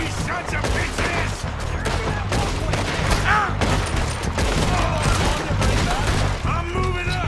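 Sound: gunfire in the video game Red Dead Redemption 2

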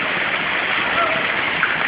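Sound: waterfall flowing down into a fish tank

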